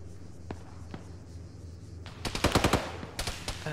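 Bursts of machine gun fire from an enemy bunker in the Arma military video game, a few scattered shots followed by a rapid loud string of rounds and a final short burst.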